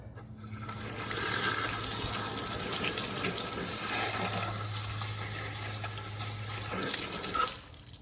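Outdoor hose bib faucet turned on with nothing attached, water gushing steadily and splashing at close range for several seconds before tapering as the flow is shut off.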